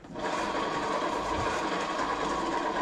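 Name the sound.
Honda PCX scooter engine making a fault noise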